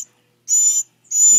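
A baby bluebird gives two thin, high-pitched begging calls, each a short sustained peep separated by a brief pause, close and clear.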